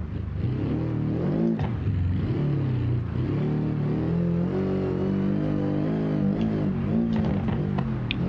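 Rally car engine in BeamNG.drive screams at high revs over a bumpy uphill stage, a loud continuous buzzing drone that rises and dips as the throttle and wheel spin vary, with no talk over it.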